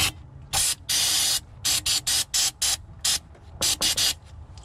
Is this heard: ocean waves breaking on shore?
no